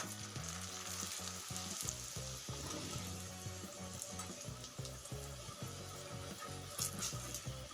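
Mooli paratha roasting in ghee on a hot griddle, a steady close crackling sizzle that continues throughout with small pops and scraping stirs, no voices.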